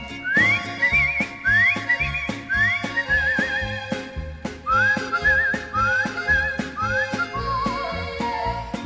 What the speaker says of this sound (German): Ja, so pfeifen gern die Eltern her